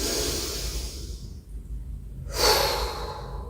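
Deep breathing during a vinyasa yoga session: a long, steady inhale through the nose, a brief pause, then a louder, rushing exhale through the mouth, close and alone with no talk.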